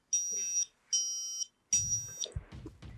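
A small electronic buzzer on a Pinoo dam control project sounds three steady high-pitched tones, the first two short and evenly spaced, the third cut off by clattering and sloshing water as the reservoir is emptied.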